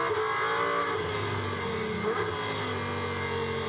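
GT race car cornering hard at the Algarve circuit, engine note shifting as it works through the gears, with light tire squeal, heard under steady live race broadcast noise.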